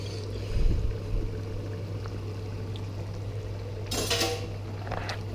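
Brief splash of a hand being rinsed under running tap water in a kitchen, a short burst of gushing water after a low background hum and a soft clunk.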